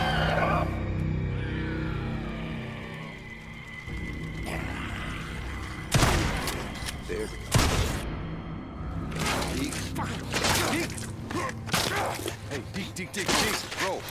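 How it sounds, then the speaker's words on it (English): Shotgun blasts in Days Gone, heard as sharp broadband bangs around six and seven and a half seconds, then a rapid run of further loud cracks toward the end, over a low game score and ambience. "Shotgun."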